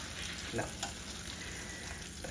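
Cod fillets sizzling in a hot frying pan, a steady dense crackle, fairly quiet and close, with a couple of faint clinks and no talking.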